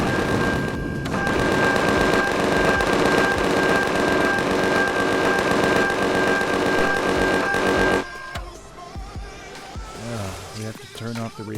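Turrets in the space-survival game Empyrion: Galactic Survival fire in a rapid, continuous automatic barrage at a structure for about eight seconds, then stop abruptly, leaving scattered quieter game sounds.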